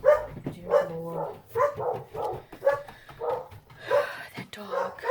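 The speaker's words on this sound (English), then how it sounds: "That dog." A dog barks repeatedly in a steady series of sharp, mid-distance barks, with a person talking in between.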